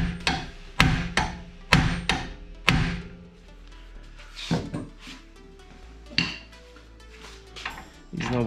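A hammer strikes a BMW axle joint while it is being loosened from the hub, landing several sharp metallic blows in a quick series, then a few scattered knocks and clunks between quieter pauses.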